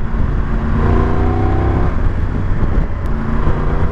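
A Triumph Tiger 1200 motorcycle in road mode accelerates hard, its engine note climbing in pitch through a loud, close rev before easing back to a rougher, steady drone.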